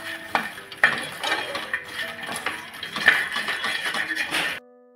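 Fox nuts (makhana) being stirred with spices in a pan, with light scraping and clinking of a utensil against metal in irregular strokes, close and moderately loud, no talking.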